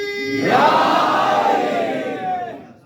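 A majlis crowd in a mourning hall roars the Haidari slogan in unison after a lone voice leads, a loud swelling chorus that lingers and fades over a few seconds.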